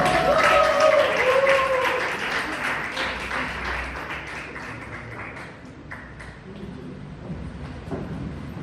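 Audience applause welcoming an area division director onto the stage at a Toastmasters club meeting, a loud burst of clapping at the start that thins and fades over several seconds, with some voices and music-like tones mixed in.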